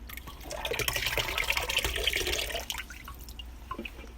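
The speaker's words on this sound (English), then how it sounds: "This is our fifth and final can that's beginning to boil." Water bubbles and churns as it comes to a boil inside an aluminum can on a heat source, a close, steady liquid seething with small popping drips that fades slightly toward the end.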